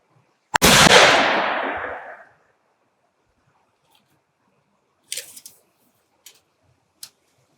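A single loud rifle shot fired through an Oulun Työstökeskus muzzle brake at an outdoor range: a sharp crack with a long rolling echo decaying over about two seconds, followed by a few faint clicks and ticks in near silence.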